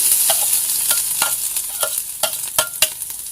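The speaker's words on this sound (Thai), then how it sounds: "เอาน้ำมันใส่หน่อยนึงแล้วเนาะผัดที่แกงเลย" Curry paste stir-fries in a little oil in a pot, giving a loud, close sizzle broken by a run of sharp scraping stirs that quicken near the end, with no voices.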